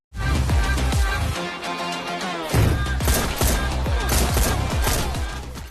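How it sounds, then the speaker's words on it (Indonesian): A loud burst of film gunfire from an Indian movie scene sounds as a dense rapid volley with booming impacts. Music or a rumbling score runs beneath it. "Ravindra mengarahkan senjatanya kepada CM, namun ia malah menembak Perdana Menteri"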